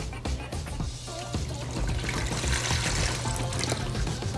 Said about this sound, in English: I'm gonna pour.